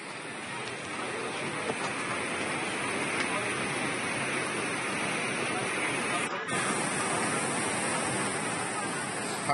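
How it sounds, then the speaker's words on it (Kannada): A swollen stream in Chitradurga rushing hard after heavy rain, a dense, steady roar of water that stays loud and even throughout. "ಆ ಹಳ್ಳನೂ ಬಾರಿ ಜೋರಾಗಿ ಹೋಗ್ತೈತೆ ಅನಿಸ್ತೈತೆ"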